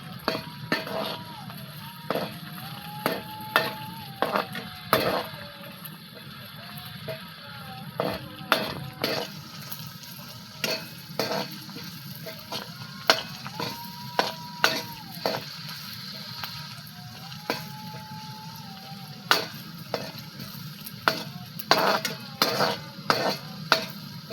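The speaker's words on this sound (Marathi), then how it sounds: "आता एकंदरीत कांदा लाल भाजून घेतलाय." Onions frying in a pan until red, with a steady low sizzle under repeated sharp clinks and scrapes of a stirring spoon, close, with faint voices in the background.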